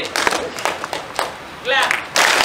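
Group hand clapping at a music workshop, sharp bursts of claps repeating at intervals between quieter pauses, with a voice speaking in the room.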